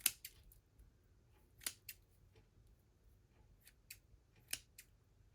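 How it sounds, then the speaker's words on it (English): Scissors snip craft material in several quick, sharp cuts spaced irregularly, close and crisp against a quiet background. "we're just going to take some scissors and trim that up a little bit"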